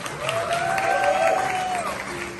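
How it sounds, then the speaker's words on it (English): Applause from wedding guests for the couple, clapping joined by cheering and a rising whoop from the crowd, fairly close and lively. "Let's give them a round of applause."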